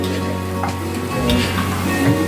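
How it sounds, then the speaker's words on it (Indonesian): Chili sambal frying in a pan, a steady close sizzle with small crackles and stirring scrapes running throughout, no voices. "Sambalnya ini kita goreng sebentar aja ya, nggak usah lama-lama."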